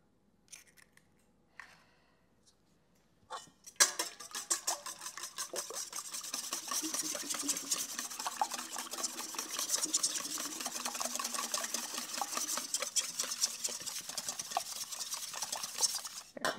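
Eggs are whisked in a bowl for a pound cake batter, a steady rapid scraping and clicking that starts after a few light knocks and runs continuously and fairly close.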